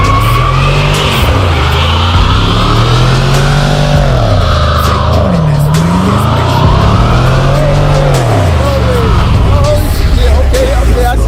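A car drifting in a parking lot, engine roaring and revving in long rising and falling sweeps while tires squeal continuously, loud and close throughout.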